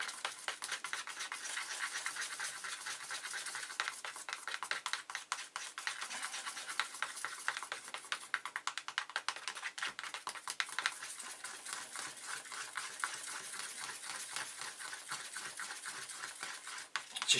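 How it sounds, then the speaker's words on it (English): Resin mixed with microspheres is stirred in a pot, a continuous fine scraping and rubbing of a stick against the container, quiet and close, going on steadily without speech. "Get them microspheres well mixed in. Get the two pots blended well. Like I say, with a good 60 seconds, give it a real good stir."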